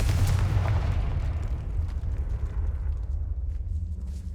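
Confringo spell blast in Hogwarts Legacy, a loud deep booming explosion with a rumbling roar that slowly fades into a low lingering rumble, alone without talk.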